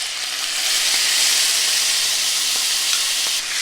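Washed basmati rice is sautéed with cumin and spices in a hot pan, giving a loud, steady hissing sizzle with faint stirring clicks and no talking.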